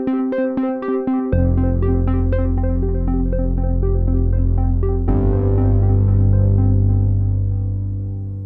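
Analog synth melody triggered via MIDI over a sustained backing: staccato plucked notes at first, then a held thick bass-heavy tone with melodic notes on top, loud and steady with no talking.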